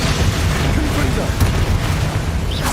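The Confringo spell in Hogwarts Legacy goes off as a loud, roaring blast that fills the clip with sustained rumbling and crackle, heavy and close.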